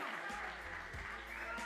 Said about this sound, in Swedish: Varm extra applåd.